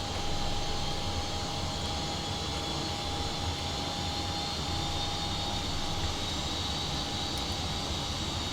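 Steady, loud jet engine drone from a PMDG 737 in the Prepar3D flight simulator, a continuous whine with a sustained tone as the engines are cut off, no voices present.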